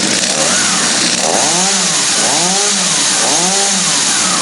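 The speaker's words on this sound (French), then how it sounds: "Quand je viens faire ça, ça tire sur le ressort qui accélère la tronçonneuse." A loud chainsaw engine runs continuously, revving up and down in repeated surges, very close and harsh.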